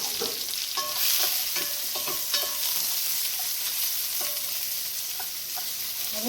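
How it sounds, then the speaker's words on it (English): Mushrooms frying in a pan for a keto kale dish, a steady close sizzle running throughout with scattered clinks and scrapes of stirring, no voices. "I'm going to put my mushrooms in."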